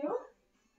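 A dog gives a single brief, faint whimpering yelp indoors during a kids' bodyweight workout, fading quickly into near silence.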